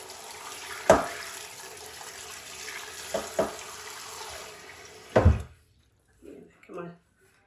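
Water runs steadily into a container with a hiss and splash, broken by a few sharp knocks, then stops abruptly near the end. Someone speaks briefly afterward.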